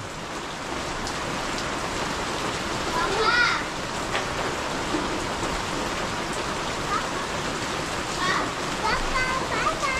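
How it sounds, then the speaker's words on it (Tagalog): Heavy rainy-season rain falls steadily in a dense, even hiss of drops and splatter on surfaces, with brief faint voices and small sounds rising now and then above the downpour. "Maulan, huwag kang lumabas."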